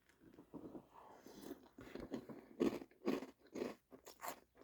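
Close, quiet crunching and chewing of a mouthful of Monster Mash cereal, several soft irregular bites in succession.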